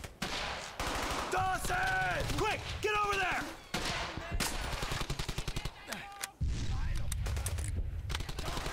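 Bursts of rapid gunfire from a World War II shooter game, Brothers in Arms: Hell's Highway, crackle repeatedly at close range amid overlapping voices and game sounds.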